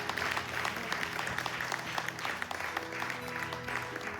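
Audience at a benefit evening breaking into sustained applause, dense continuous clapping from a large crowd filling the room, with faint voices mixed in.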